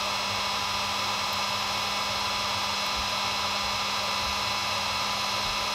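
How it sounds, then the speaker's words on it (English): A heat gun blows hot air while thread is peeled back on a basketball being embroidered. It gives a steady, even whoosh with a faint electrical hum underneath, close and constant, with no one talking. "you just hold it over your heat gun"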